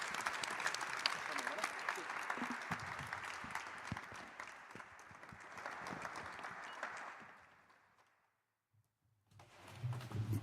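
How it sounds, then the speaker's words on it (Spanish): Warm, sustained applause from the assembled audience at an official reception for Aragonese Paralympic athletes, steady for several seconds before fading into a brief silence and a low rumble. "pedir un aplauso fuerte para ellos"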